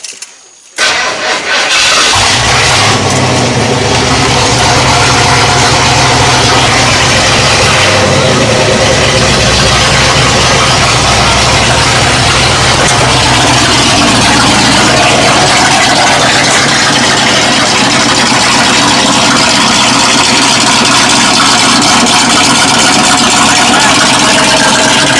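A Dentside Ford shop truck engine with its timing still off cranks and fires up, then runs loud and rough, holding a steady, heavy idle rumble close by for the rest of the clip.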